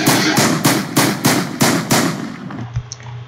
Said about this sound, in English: machine guns to the head